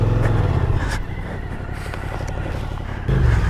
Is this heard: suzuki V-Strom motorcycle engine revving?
yes